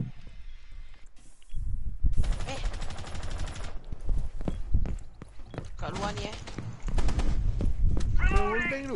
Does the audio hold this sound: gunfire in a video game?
yes